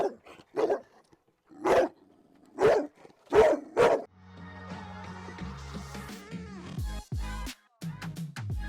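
A protective four-year-old Cane Corso barks five or six deep, loud, close barks in an uneven rhythm, then the sound gives way to a jumble of other noise and brief voices.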